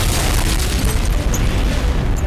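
An atomic bomb test explosion roars as a dense, continuous, loud low rumble with broadband crackling noise, unbroken throughout and with no voices.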